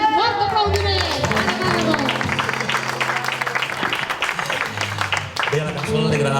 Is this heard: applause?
yes